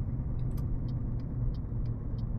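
A truck engine in Euro Truck Simulator 2 rumbles low and steady at low revs, with a constant deep drone and faint periodic clicks above it, heard alone and fairly loud.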